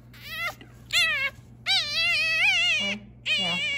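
A newborn puppy after dew claw removal whimpers and cries in four high, wavering, drawn-out squeals, close and clear against a low steady hum.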